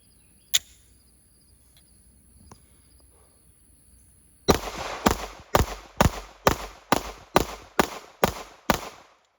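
Pistol shots firing Badlands 124 grain rounds at a 10-yard range: two faint isolated pops at first, then a loud string of about ten evenly spaced shots fired at a steady, brisk pace.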